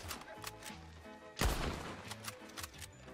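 Gunshots ring out in the Red Dead video game, with a loud broadband crack near the middle and smaller sharp reports around it, over game music and background sounds.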